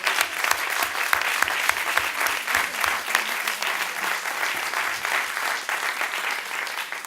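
Sustained audience applause at a public event on women's alliances against patriarchal violence, dense steady clapping at full level throughout, with no talk over it.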